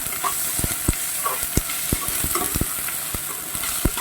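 Ginger garlic paste sautéing in a pan for aloo biryani, a loud close sizzle broken by regular sharp scrapes and taps of the spoon against the pan, with no voices.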